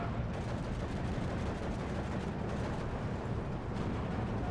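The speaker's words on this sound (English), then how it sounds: "Look where those mortars are coming from." Mortar fire in the Steel Division 2 war game rolls on as a dense, continuous rumble of distant blasts and gunfire, steady and heavy throughout with no clear gaps.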